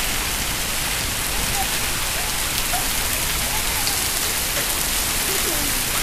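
Cold rain pours steadily outdoors on a rainy afternoon, a dense, even hiss of drops on surfaces with no pauses, fairly loud and close.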